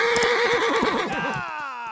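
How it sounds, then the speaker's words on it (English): A horse neighs loudly in the battlefield game Holdfast: Nations at War, a long wavering whinny up close that fades out toward the end, with faint hoof clatter underneath and no talk. "kill this horse!"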